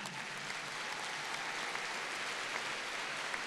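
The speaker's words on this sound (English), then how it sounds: "Give them a round of applause." Steady crowd applause at a graduation ceremony fills the whole stretch, dense and continuous clapping from a large room with no pauses.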